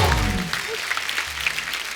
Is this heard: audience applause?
yes